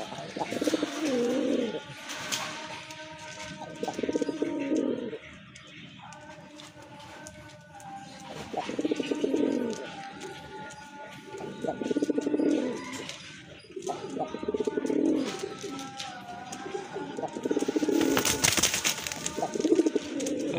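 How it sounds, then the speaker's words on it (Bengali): A pair of Raj Golla pigeons coo in repeated soft, throaty bursts at close range, with brief pauses between the calls and faint chirps and background noise around them. "খুবই সুন্দর এক জোড়া কবুতর, ভালো মানের।"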